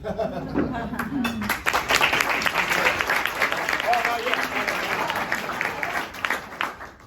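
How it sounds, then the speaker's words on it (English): Applause from a luncheon audience, a burst of clapping that swells and holds, mixed with a few voices and light laughter near the end. "That was just the interim applause."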